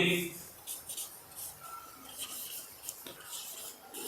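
Chalk or marker scratches across a classroom board in short strokes during a Class 6 maths lesson, close and moderately loud.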